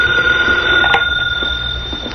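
A telephone bell rings in a radio drama, a loud, close, continuous electric trill with a brief sharper burst near the middle, heard alone without voices.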